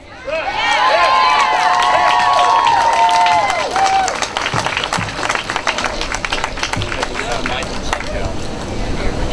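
A crowd at an outdoor speech against mountaintop removal applauds and cheers for a few seconds, a loud wash of clapping with a shout or whoop, then it fades as a speaker's voice takes over.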